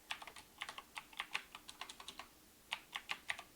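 Java code being typed on a computer keyboard: quick bursts of close, crisp key clicks in an uneven rhythm with a short pause midway, no voices.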